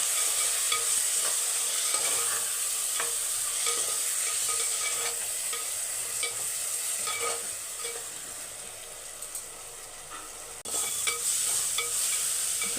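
Onions, drumstick and tomato paste frying in a pan for a chicken curry, a steady close sizzle with repeated scraping stirs of a spoon, and no one speaking.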